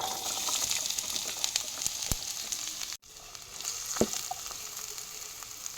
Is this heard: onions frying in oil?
yes